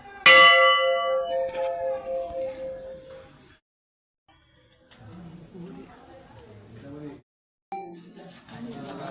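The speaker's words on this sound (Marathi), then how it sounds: "घंटा किती छान आहे, त्या घंटेचा आवाज पण खूप छान घुमतो आहे बघा।" A temple bell at the Theur Chintamani Ganesh temple rings out with a bright, ringing strike that slowly decays, followed by gaps and murmuring voices and movement nearby.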